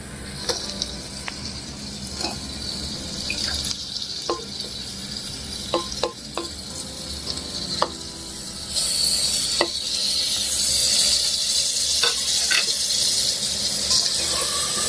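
Pieces of mutton sizzle and fry in a pan for Maharashtrian sukka mutton, a steady loud hiss broken by scraping stirs, the frying growing louder partway through, with no talk.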